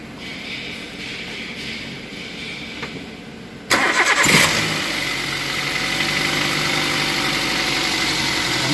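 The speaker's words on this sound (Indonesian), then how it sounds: "nanti mesin kita hidupkan" Toyota Xenia/Avanza-type car engine cranking and catching after a quiet stretch, then settling into a steady, loud idle during an alternator charging-output check.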